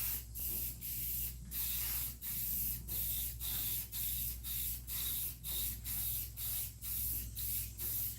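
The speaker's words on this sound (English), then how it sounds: "Maybe you're spraying too much on?" Spray painting on a truck during body work: a spray gun hisses in steady repeated bursts, roughly one per second, each a loud near blast of air and paint mist over a low background hum, with no talking.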